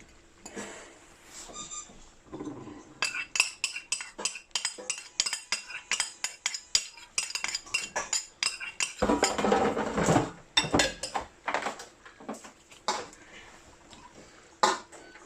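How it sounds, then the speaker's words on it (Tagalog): A spoon stirs pork dinuguan with tamarind mix in a metal pot, making repeated clinks and scrapes in an uneven rhythm. There is a denser burst of rattling partway through, and a faint cough or throat clearing is heard among the clatter. "Haluin natin."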